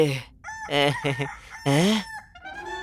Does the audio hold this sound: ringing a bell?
no